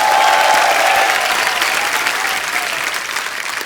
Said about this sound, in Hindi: तालियां हमारे करण सर के लिए।